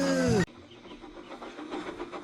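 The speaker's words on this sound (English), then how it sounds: "Just then, Boko, the diesel engine, hummed in." A loud tonal horn-like blast opens, then Boko the diesel engine rolls in with a steady low rumble and a faint rhythmic clatter from the wheels, like a storybook railway scene.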